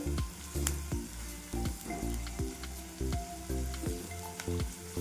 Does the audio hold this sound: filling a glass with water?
no